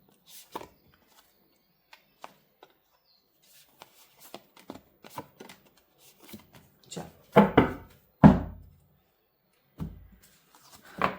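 A deck of tarot cards being handled and shuffled: soft, scattered riffles and flicks, faint and close, building to a few louder slaps and card drops toward the end.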